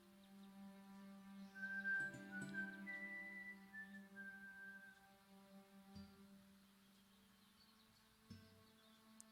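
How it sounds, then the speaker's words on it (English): A character in the video game Broken Sword 5 whistles a short, quiet melodic tune over a steady low in-game hum, the notes clustered early and fading out. "can you whistle that again, please?"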